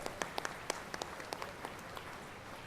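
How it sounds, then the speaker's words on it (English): Members of an audience at a speech event clap for the speakers, a modest stretch of irregular claps over a soft steady room background, fairly faint and slightly distant. "please give them a big round of applause"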